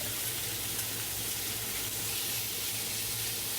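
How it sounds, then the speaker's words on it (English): Chicken and shrimp in marinade sauce fry in a skillet over medium-high heat, giving off a steady, even, moderately quiet sizzling hiss with no pauses. "In a frying skillet over medium plus heat, number 8 on my stove, dip in the chicken and shrimp and sauce from the marinating container."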